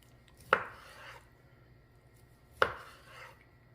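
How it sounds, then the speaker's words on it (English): Grilled pork tenderloin sliced with a knife on a board, two crisp separate chops about two seconds apart, each followed by a short soft scrape, close and clear with no talk. "So let's go ahead and begin to slice."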